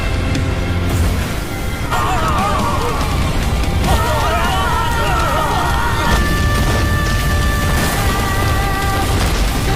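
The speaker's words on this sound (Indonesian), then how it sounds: "Hal tersebut membuat ledakan yang dahsyat." A huge animated explosion as a fire lotus strikes, a loud continuous roaring blast with crashing bursts throughout, dense and full, with busy crackling detail layered over the rumble.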